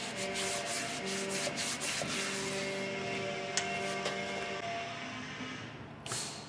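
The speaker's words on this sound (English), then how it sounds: "The good thing with the wire wool is it's so fine that it doesn't leave any scratches on the surface of the bumper." Steady close rubbing and scrubbing of fine wire wool polishing a chrome bumper on an MGB under restoration, a continuous soft abrasive hiss with faint rhythmic strokes and no talk.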